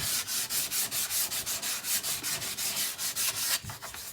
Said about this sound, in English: I could do a bit more sanding there.